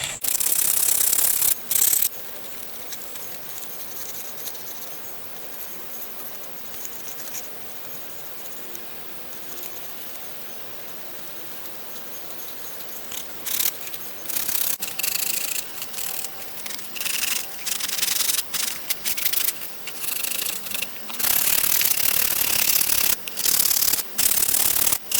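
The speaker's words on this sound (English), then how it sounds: "now I'm just going to move on to the sanding phase" A wooden ocarina sanded by hand, a dry, scratchy rubbing in repeated strokes, close and fairly loud, with quieter stretches and short pauses between bursts and no talk.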